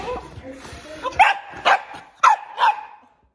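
Small puppies bark and yip in four sharp bursts, close and fairly loud, after a stretch of softer indoor sounds and faint talk.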